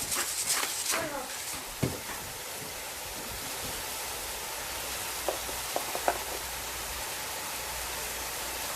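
Ground meat spiced with black pepper and seven spices fries in a pan, giving a steady soft sizzle with a few faint scrapes of stirring near the start and middle.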